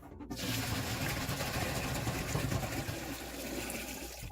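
About 2.5 gallons of water pour into a brewing pot for an extract IPA kit, a steady, dense rushing splash that continues unbroken throughout.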